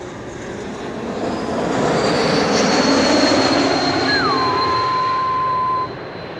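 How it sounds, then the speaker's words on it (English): A Georgian Airways Boeing 737 arriving from Tbilisi comes in to land at Amsterdam Schiphol, a broad, steady jet roar swelling and holding loud, with a thin whine laid over it before it eases slightly at the end. "Georgian Airways 737. Should be number 3 now. Having arrived from Tbilisi."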